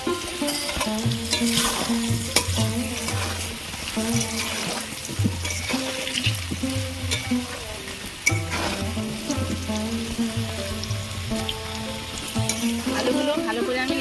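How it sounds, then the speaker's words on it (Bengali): Potatoes frying in oil with a little turmeric, a steady bubbling sizzle with occasional stirring scrapes, close and continuous throughout, with no talking. "প্রথমে আমি আলুগুলো ভেজে নেব অল্প একটু হলুদ গুঁড়ো দেবো"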